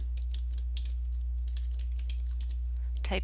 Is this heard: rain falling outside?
no